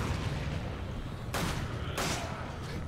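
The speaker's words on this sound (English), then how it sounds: "Can't even see where I'm shooting." Gunfire in the video game Resident Evil 5, a steady dense rumble of game audio broken by two loud sharp shot bursts a moment apart, no talking.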